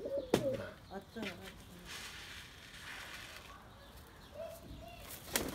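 Young pigeons in a loft give soft, scattered coos and short calls among quiet rustling, with a couple of sharp knocks near the start and the end.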